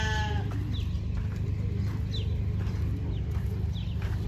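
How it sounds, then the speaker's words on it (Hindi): Several short goat bleats sound at intervals over a steady low hum, moderately close and not very loud, from a billy goat on a farm in Saudi Arabia. "और ये बकरा है सबका बॉस।"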